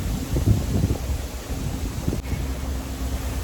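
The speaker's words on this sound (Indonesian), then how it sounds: "Wah lagi berangin nih." Wind blows outdoors in Japan, buffeting the microphone with a low rumbling roar that swells and gusts steadily, fairly loud and without any talk.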